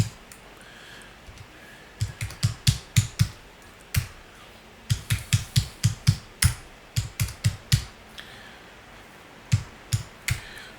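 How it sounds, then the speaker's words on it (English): Bursts of computer keyboard keystrokes entering dimension values, quick clusters of crisp clicks separated by short pauses, close and clear with no talking. "Type them in, then press the enter or tab key to go to the next row."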